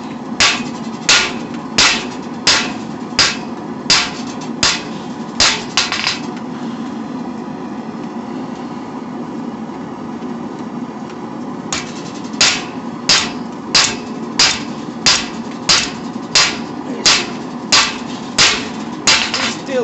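Hammer forging metal stock for knives in a workshop: a run of sharp, evenly spaced ringing blows, a pause of several seconds with a low background hum, then another steady series of strikes, loud and close.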